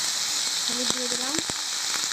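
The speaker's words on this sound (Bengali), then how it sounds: "এটাকে ভালো করে ভাজা করে নেওয়া হবে।" Vegetables fry in oil with salt and turmeric, a dense, even sizzle close by, with a brief voice passing over it midway.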